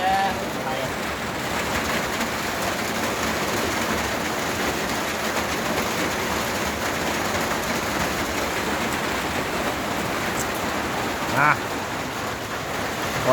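Rain falls steadily over a rice field in a dense, even hiss that stays constant throughout, with one faint brief tap near the end.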